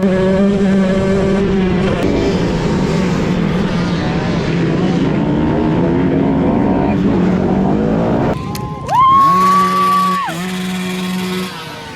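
A loud motorcycle engine roars steadily at full throttle on a long straight during a cross-country race, then a sharp rising whine near the end as it shifts and accelerates, close and continuous.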